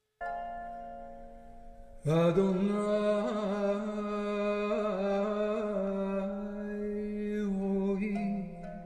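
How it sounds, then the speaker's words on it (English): Lyre music in an early Jewish style: plucked strings with sustained ringing notes, a short phrase followed by a fuller strummed passage, steady and alone. "If you want to hear some early Jewish music, here it is."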